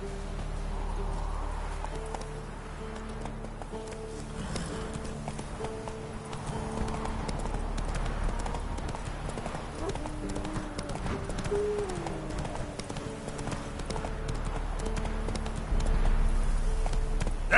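Hooves of Roach, Geralt's horse in The Witcher 3 video game, clop in a steady trotting rhythm, close and fairly loud over a low ambient drone and faint game music.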